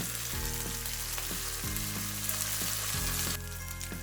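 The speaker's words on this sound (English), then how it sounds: "But we will fry it a little bit more." Rendang spice paste fries in a pan over low heat, a dense continuous sizzle with crackling and periodic stirring scrapes, close and fairly quiet.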